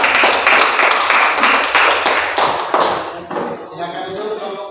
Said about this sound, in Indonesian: Mari kita beri aplaus untuk kelompok 2.